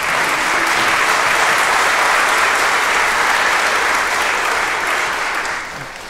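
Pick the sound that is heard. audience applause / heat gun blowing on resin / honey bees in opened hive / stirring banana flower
audience applause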